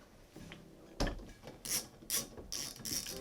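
A hand ratchet clicks in quick, uneven bursts as it loosens a 10mm nut on the rear spoiler of a first-generation DSM car, several short sharp pawl runs heard close and fairly quiet.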